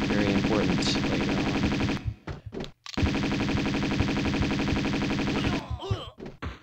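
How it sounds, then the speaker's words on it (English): Rapid automatic Uzi fire in Tomb Raider II, two long sustained bursts of dense rattling shots broken by brief gaps and a few thuds, loud and close. "I'll use the Uzis"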